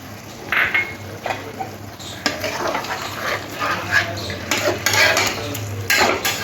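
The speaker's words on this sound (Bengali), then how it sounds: "একটু জল দিয়ে চিকেনটা ভালো করে মিশিয়ে নিয়েছি।" Chicken manchurian is stirred with added water in a pan, giving repeated scraping and clattering of a utensil against the pan over a soft, constant simmer.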